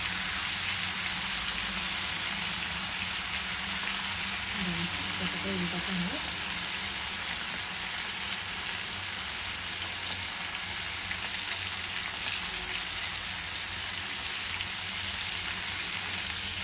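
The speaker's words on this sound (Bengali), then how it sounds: "ঢাকা দিয়ে ভাজতে হবে। পটলটা একটু ভাজা হয়ে গেছে" Pointed gourd (potol) frying in a covered pan gives a steady, dense sizzle that runs unbroken throughout, close and fairly loud, with a faint voice briefly underneath.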